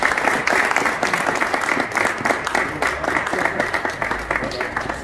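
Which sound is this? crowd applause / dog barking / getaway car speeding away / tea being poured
crowd applause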